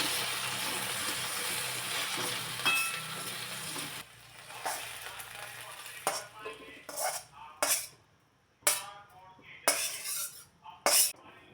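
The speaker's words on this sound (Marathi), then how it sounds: "अधूनमधून झाकण काढून पुन्हा एकदा भेंडी चांगली व्यवस्थित परतून घ्यायची." Okra is stir-fried in a kadhai, a soft sizzling hiss at first, then a series of distinct metal clinks and scrapes from the spatula and lid, close and intermittent, with no talking.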